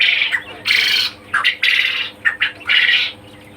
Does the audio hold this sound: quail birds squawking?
yes